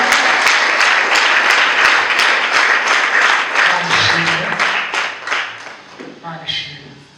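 A church congregation applauds with many hands, a loud and dense clapping that thins and fades toward the end as a voice speaks over it.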